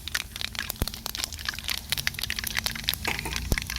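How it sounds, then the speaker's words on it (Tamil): Mustard seeds splutter and pop in hot sesame oil while a Tamil fish pickle is made, giving dense, continuous close crackling with a few sharper pops and no talking. "நல்லெண்ணெய் நல்லா சூடாகிடுச்சு நம்ம கடுகு சேர்த்துக்கலாம் கடுகு நல்லா பொரியணும்"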